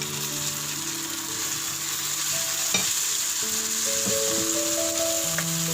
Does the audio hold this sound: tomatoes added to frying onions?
yes